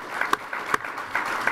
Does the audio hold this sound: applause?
yes